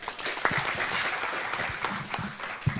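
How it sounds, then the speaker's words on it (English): Moderate applause from a small crowd, steady clapping for a few seconds with a few sharper claps standing out. "Let's clap for her."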